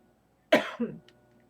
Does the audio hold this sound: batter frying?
no